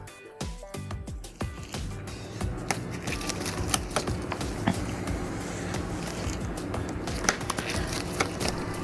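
Small screws being removed from the bottom of a Samsung Galaxy A03s phone with a screwdriver, dense close clicks and light metallic ticks over rustling handling noise, with no talk.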